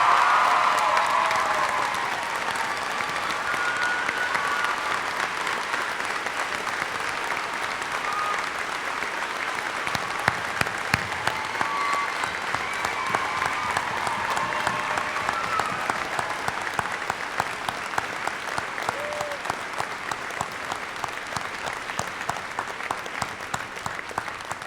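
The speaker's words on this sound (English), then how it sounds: "I'd like everyone here, parents, faculty, and students, to join me in applause" A graduation ceremony audience of parents, faculty and students applauding, a dense, sustained wash of clapping that carries on steadily for the whole stretch with a few faint cheers mixed in.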